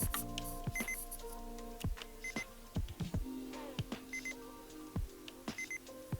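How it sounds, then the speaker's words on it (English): Short electronic beeps from a Discman skipping tracks chirp repeatedly over a faint background hum, scattered clicks and tones sounding every second or so. "The beeping sound when you skip a track."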